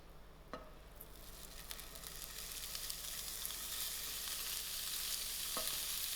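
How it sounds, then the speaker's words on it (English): Sausage meat hits a hot pan and sizzles, a hiss that builds steadily louder with a couple of sharp knocks of utensil against the pan near the start and end, with no talking. "To this pan, I'm going to add in my sausage meat."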